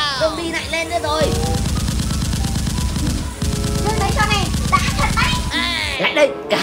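Rapid machine-gun fire from a children's robot and zombie shooting video game rattles in two long sustained bursts, loud and close, with excited cartoonish voices and game sound effects chirping around them.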